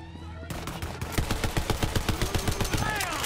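Rapid automatic gunfire from the video game Borderlands 3 comes in a fast, even burst of sharp shots that runs nearly the whole time, loud and close.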